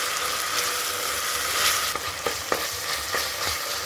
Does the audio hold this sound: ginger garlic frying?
yes